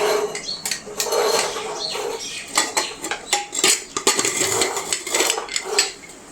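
A pressure cooker holding boiled jackfruit seeds is lifted off a gas stove after two whistles. Metal pot and lid clank and scrape in a string of close, irregular knocks and rattles, with no voices.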